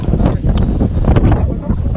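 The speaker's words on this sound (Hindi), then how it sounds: "हवा चल रहा है अभी भी" Strong wind on a cliffside at Kohoj Fort, Palghar, buffets the microphone with a constant low roar and gusty rumble, close and loud throughout.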